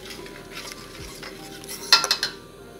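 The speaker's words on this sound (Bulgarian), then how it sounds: "Добавям доматено пюре. Помесвам." Tomato paste is stirred into a pot with onions in oil for a yellow bean and potato stew: quiet scraping and stirring, then a few louder clinks of the spoon against the pot near the end.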